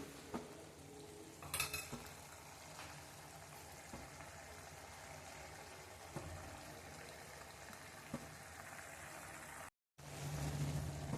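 Thick vegetarian gravy stirred in a pan over a full gas flame, giving a soft steady sizzle with scattered scrapes and clinks of the spoon against the metal, close and fairly quiet throughout, with no talk.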